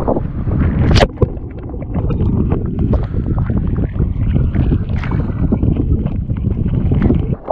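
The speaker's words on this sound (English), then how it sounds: "we'll keep on paddling" A kayak paddled offshore on an open fishing trip, with steady water sloshing and splashing under heavy, constant wind buffeting the microphone, loud and close throughout.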